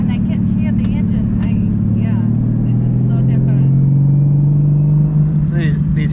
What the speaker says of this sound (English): and I can hear the engine.